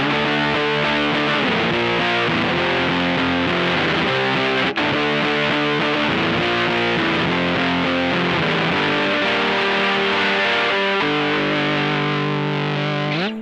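Electric guitar played through a Red Witch Ruby Fuzz pedal on the back pickup, loud sustained fuzzy distortion with chugging riffs and shifting chords, steady and dense throughout with a brief dropout midway.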